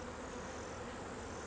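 Honeybees in an opened hive give off a steady, faint buzzing hum that continues unbroken throughout with no talking.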